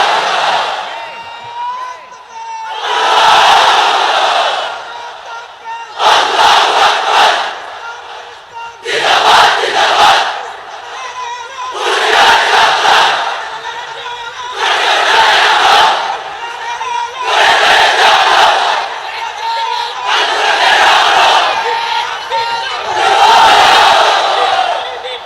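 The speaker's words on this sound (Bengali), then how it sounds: "এবার সবাই মিলে 3টা, এক একটা তাকবীরে যাতে এই প্যান্ডেল কেঁপে ওঠে" Large crowd at a Bangla-language Islamic religious gathering under a pandal shouting takbir in unison, loud repeated collective roars in about eight bursts with short pauses between, each surge swelling and fading.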